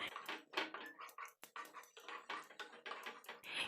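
A lid being set on a pan of egg chilli on the stove, with a run of close metallic clinks and clatters, several sharp knocks and lighter rattles spread over a few seconds.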